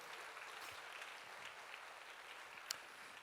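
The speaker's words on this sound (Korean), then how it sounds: "다시 한번 박수로 우리 격려하고 하나님께 영광의 박수 올려드립니다" Faint, distant applause from a church university-group congregation welcoming new family members and leaders, a soft steady patter of many hands with one sharper clap standing out near the end.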